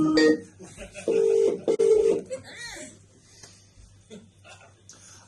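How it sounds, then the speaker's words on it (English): Telephone keypad tones beep in short bursts, some single and some rapid pairs, as a number is dialed to phone a caller back, with faint voices and background chatter underneath. "we're phoning the child back"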